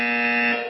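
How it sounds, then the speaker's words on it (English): A harsh electronic buzzer sound effect, one short sustained tone holding loud and steady before cutting off, with no voices. "I got the buzzer going a lot today"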